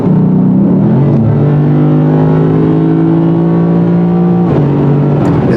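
A V8 car, a 2019 Lexus RC-F or 2019 Ford Mustang Bullitt, accelerating hard with a loud, rising engine roar that climbs steadily, drops briefly at a gear change, then pulls again close up.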